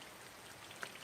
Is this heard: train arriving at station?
no